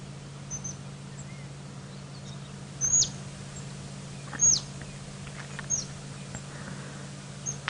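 Dwarf mongooses giving chittering alarm calls from a tree, brief high chirps repeated several times at irregular intervals over a quiet outdoor background with a faint steady low hum.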